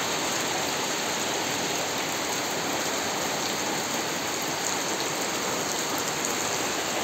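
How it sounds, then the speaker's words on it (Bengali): Heavy rain pours steadily and loudly, a dense continuous hiss of rainfall close by with no voices or breaks throughout. "আপনারা দেখেন এখানে প্রচুর বৃষ্টি হচ্ছে।"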